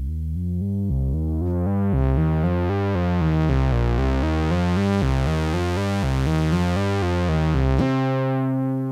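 A Juno-style synthesizer bass line plays a steady run of short, punchy low notes in an even rhythm, loud and alone, with a final sustained note ringing out near the end.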